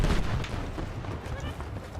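A grenade goes off in Battlefield 6 with a heavy, low rumbling boom right at the start, which then decays into a dull rolling tail amid distant gunfire.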